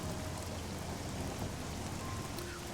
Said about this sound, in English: we've almost made it back to the house, and it's still pissing with rain